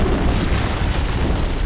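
An antimatter charge explodes in a Halo: Combat Evolved video game cutscene, producing a loud, sustained, rumbling blast that fills the whole moment without letting up.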